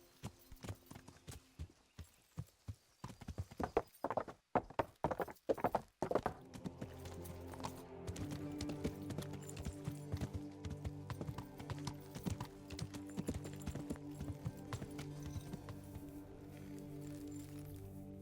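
Horse hooves clip-clop in the video game Kingdom Come Deliverance, first sharp and spaced, then settling into a quieter, faster steady rhythm over ambient background.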